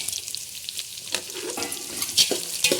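Chana dal, cashews and raisins roast together in a pan for sweet sakkarai rice, a close, crackling sizzle with scraping stir strokes and small pops, no voices.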